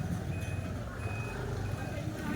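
A truck's reversing alarm beeps in a repeating series of high tones over loud, steady street noise during a clearing operation in a crowded Tondo neighborhood.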